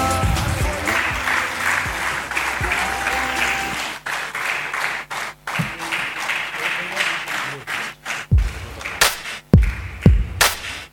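An audience at an HR conference prize ceremony applauds loudly and steadily, then the clapping thins into a few scattered, sharp individual claps near the end.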